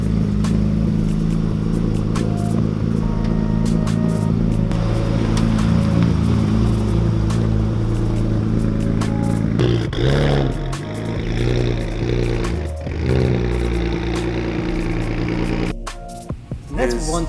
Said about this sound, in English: it's the way the turbos sound